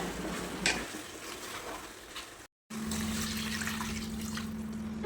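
Chicken frying in a pan with turmeric, red chilli and kuzhambu masala powder, a steady close sizzle with light stirring and pan scrapes, a brief gap midway, and no talking.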